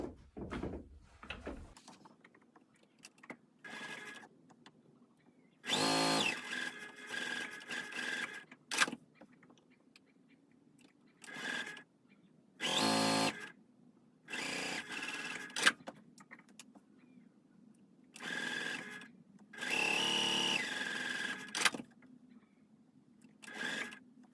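A sewing machine stitches quilt block pieces in several loud bursts of rapid running, separated by quiet pauses and small handling clicks.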